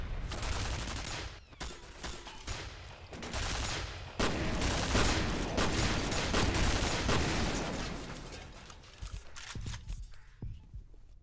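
Turret gunfire in the video game FEAR, dense rapid automatic bursts with heavy impacts and explosions filling the scene almost continuously, loud and close, easing off near the end.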